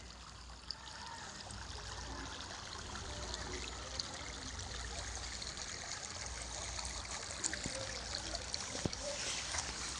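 Irrigation water flowing into farm fields in Uttarakhand, a continuous low trickling stream with faint scattered clicks and splashes, steady and unbroken with no talking.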